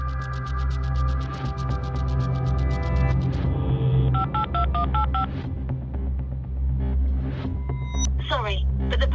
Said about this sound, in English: Three calls have gone into the phone.